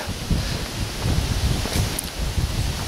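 Wind blows outdoors across a microphone as someone walks, a steady low rumbling buffet with gusty surges and rustling, loud and continuous without speech.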